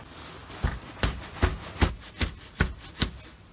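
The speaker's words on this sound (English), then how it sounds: "undo that nut and let the oil drain out" A wrench works loose the oil drain plug nut under a Kia Soul 1.6 petrol, making six evenly spaced sharp clicks at a steady rhythm, close and distinct against a quiet background.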